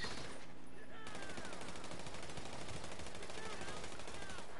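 Rapid automatic gunfire from a GTA 5 shootout rattles on continuously at close range, dense overlapping bursts filling the whole stretch, with voices faintly mixed underneath.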